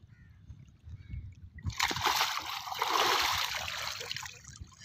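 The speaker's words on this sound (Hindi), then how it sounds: "बहता पानी है।" Water of the Sutlej river rushing and splashing close by, a loud broadband wash that surges in abruptly after a quieter rumbling start and stays steady.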